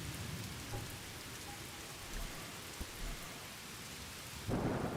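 Steady rain patters in the Polylithic survival game while low rumbles of thunder roll underneath, and a louder burst of rain noise rises near the end.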